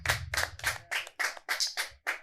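About eight distinct, sharp hand claps in a steady rhythm from a small group on a TV show set, close and moderately loud with no talk over them.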